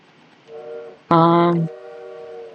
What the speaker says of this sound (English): I dreamt that I was sleeping on the train.